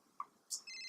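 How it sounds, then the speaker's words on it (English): A telephone starts ringing with a couple of soft clicks and a bright chirp, then a sustained electronic ring tone, quiet and close, with no talk. "My phone."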